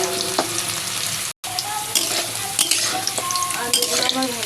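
Potatoes sizzle steadily in hot oil in a kadai while being stirred, with scraping and clinking from the utensil against the pan and a very brief dropout near the middle.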